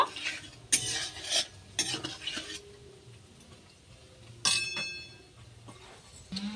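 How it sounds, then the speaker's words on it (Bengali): A metal spatula scrapes and clinks against a pan while stirring frying mango fritter batter, in irregular strokes with a light sizzle beneath. "খুন্তিয়ে করে একটু ভালো করে নেড়ে দেব।"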